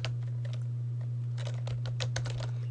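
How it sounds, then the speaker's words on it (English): Terminal command being typed on a computer keyboard: a brief flurry of quick, light key clicks, sparse at first and then denser, heard close over a constant low electrical hum. "So we type sudo etc initd networking"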